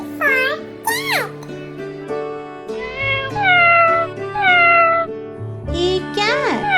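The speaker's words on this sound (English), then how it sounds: "C for cat" A cat meows loudly and close several times in a row, with rising and falling drawn-out cries separated by short pauses.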